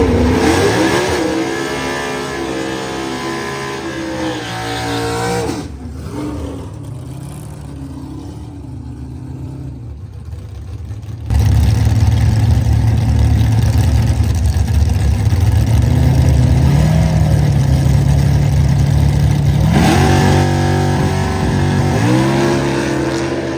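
A race car engine on a track during a night test run, loud and close, with rising and falling revs through sustained harmonic sweeps, a brief lull, then a heavy, steady roar at high throttle before the revs climb again.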